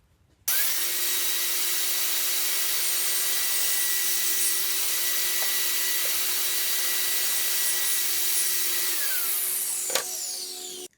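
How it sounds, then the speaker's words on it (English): A power saw runs continuously through timber being cut for a pigeon hole cabinet, a steady whining drone with a constant tone that starts abruptly, holds for about nine seconds, then shifts pitch as it winds down at the end. "I finished cutting all the timber."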